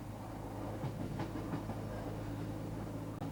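A train on the Heart of Wales line near Llandeilo Junction rolls along with a steady low rumble and soft rail clatter, continuous and fairly close, with no voices.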